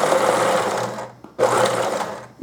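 A sewing machine runs a zigzag stitch over elastic, its fast close mechanical whirr running steadily, stopping briefly, then starting again for a second burst, with no voices.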